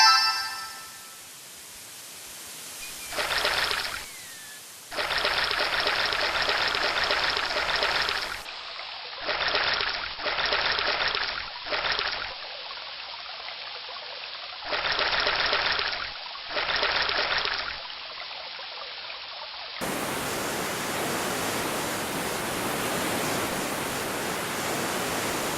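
A rushing stream and waterfall in the King's Quest III Redux game world give a steady broadband water noise, broken by repeated loud bursts and gaps, then returning as a continuous wash.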